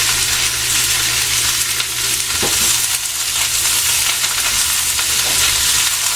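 Asparagus and garlic crackle loudly in a hot pan, a dense continuous sizzle with occasional scrapes and clinks as the pan is stirred, no voices.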